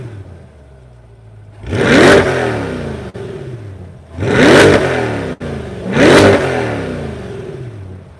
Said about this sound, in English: That, my friends, is a naturally aspirated V8 that doesn't have a particulate filter